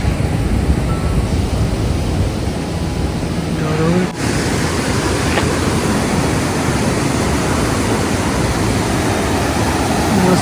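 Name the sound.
rushing river water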